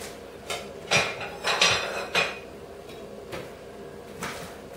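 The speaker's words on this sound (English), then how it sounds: "I'm cutting with a butter knife." Repeated butter knife taps and scrapes against a cutting board while dicing an onion, irregular strokes close by, with a metallic clatter on each cut.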